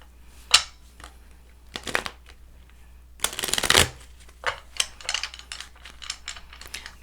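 A deck of playing cards shuffled in several separate bursts of riffling and bridging, close and crisp, with a longer, louder riffle in the middle and quieter card handling around it.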